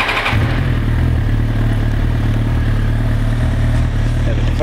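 A 2007 Suzuki GSX-R1000 sport bike starts with a brief cranking burst, then settles into a loud, close, steady idle with a rapid, even exhaust pulse and some mechanical clatter, with no talking.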